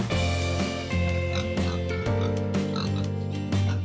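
A young female pig with a skin rash grunts repeatedly, with short rhythmic oinks close by against a steady background hum.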